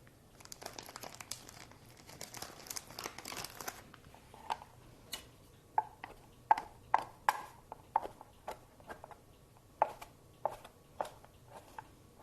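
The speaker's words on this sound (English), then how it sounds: "We're also going to cut up some turkey." A knife chops nitrate-free turkey lunch meat on a cutting board: crinkly rustling at first, then a series of crisp, irregular taps close by in a quiet room.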